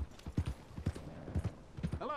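Horse hooves clip-clop at a steady walking pace in the Red Dead Redemption 2 video game, soft thuds in an even rhythm, with someone talking over them.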